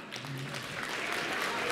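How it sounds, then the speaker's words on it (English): Audience applause rises at a kickboxing event for the promoters, a faint, building wash of clapping heard over a lingering voice at the start. "give them a big round of applause"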